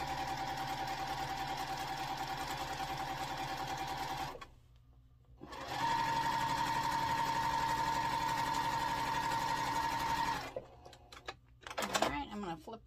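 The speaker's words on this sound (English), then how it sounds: "we're going to sew down both sides, kind of like making a half square triangle." A sewing machine stitches a quarter-inch seam down both sides of a quilt block, running steadily for about four seconds, pausing briefly, then humming again in a longer continuous run, close and loud.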